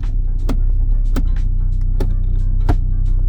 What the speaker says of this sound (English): Again, the shifter action here.